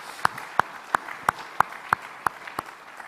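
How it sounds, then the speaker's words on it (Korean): A church congregation at a Sunday service claps in unison, eight sharp, evenly spaced claps in a steady beat of about three per second, with a faint murmur of background noise between them. "격려하는 박수 한번 더 합시다"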